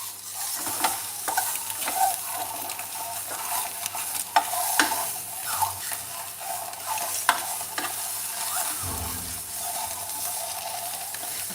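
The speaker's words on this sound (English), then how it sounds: "My curry is cooking" Egg curry simmering in a pot gives a steady bubbling sizzle with scattered scrapes and clinks of a stirring spoon, close by, with no voices.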